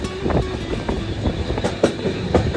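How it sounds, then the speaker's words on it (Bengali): Trains roll through on a busy main railway line near Bolpur, with steady close rumble and rail clatter, plus sharp wheel knocks that recur throughout. "সব পরপর ট্রেন ঢুকছে"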